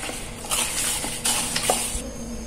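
Chicken pieces being mixed by hand with salt and vinegar for tandoori chicken, close wet squelching and soft slapping in an uneven rhythm, with no talking.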